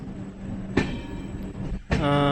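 An Indian passenger train, the 06346 Netravati Special, departs the station, rumbling and clattering with sharp metallic clanks and squeals, heavy rail noise close by, as if pulling away.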